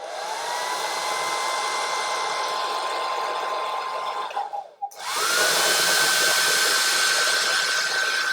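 Hair dryer blowing close and loud in a steady whooshing roar with a whine, briefly cutting off and restarting before running steadily again, with no talking.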